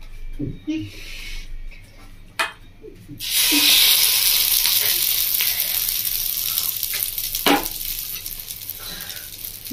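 Bread toast frying in a pan, quiet scraping and taps at first, then a loud steady sizzle bursting up as the bread hits the hot pan and continuing throughout.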